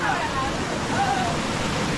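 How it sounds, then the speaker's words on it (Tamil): Clear mountain stream water rushing steadily over rocks in the Vathalmalai hills, a continuous broadband wash with faint voices in the background. "பாரு தண்ணி பாரு எவ்வளோ க்ளீனாக போயிட்டு இருக்கு தெரியுதா?"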